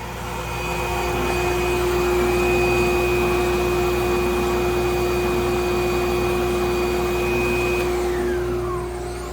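A power sander drones loudly and steadily as wooden guitar neck pieces are sanded flat and perpendicular in a New Hampshire guitar workshop, a continuous machine whine with a high tone that drops in pitch near the end.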